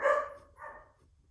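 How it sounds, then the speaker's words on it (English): Two loud, close dog barks, a sharp one followed by a shorter second bark, then quiet. "dogs barking loudly."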